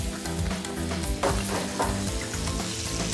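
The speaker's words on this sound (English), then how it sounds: "I'm just going to throw on that diced garlic in there," Diced garlic sizzles in a hot pan beside lamb chops, a steady close frying hiss with a few louder crackling bursts throughout, no voices.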